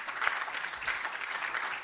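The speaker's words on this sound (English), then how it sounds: "We can give them a round of applause" After a panel discussion, an audience gives the panelists a brief round of applause, a soft, steady patter of clapping that sounds somewhat distant and quiet.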